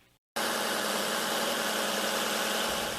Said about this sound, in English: I saw cars and gas-guzzling SUVs idling their engines as they waited to chauffeur high-ranking government officials around